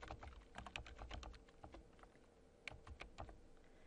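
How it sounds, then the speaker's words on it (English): Typing on a computer keyboard while working in a text box, with a quick, irregular patter of clicky keystrokes and a few sharper taps, faint and close with no talking. "Then I can type"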